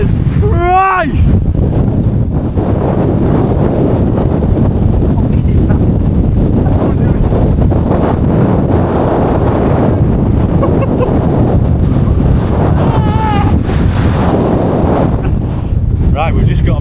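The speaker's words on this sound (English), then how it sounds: "It's so windy up here." Strong wind blasts across an exposed fell summit in the Lake District, a loud continuous roar buffeting the microphone for the whole stretch, with a few brief voice sounds.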